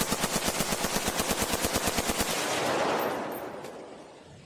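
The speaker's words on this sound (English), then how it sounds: "Mike and Cynthia fired." Rapid automatic gunfire rattles out in an even burst of about twenty loud shots as a sound effect in a horror story, then fades into a long, rumbling echo.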